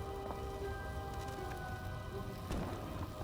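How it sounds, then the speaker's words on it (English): Steady rain falls outside a house, a continuous broadband wash of drops that holds even and fairly loud throughout, with a brief louder burst of splashing near the end and no talk. "And it's raining at my house."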